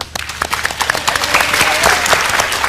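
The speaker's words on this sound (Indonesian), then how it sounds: "Oke, tepuk tangan untuk Dr. Sharma." A studio audience on an Indonesian Dr. Oz talk show claps for Dr. Sharma, a few sharp individual claps at first quickly thickening into loud, dense applause that holds to the end.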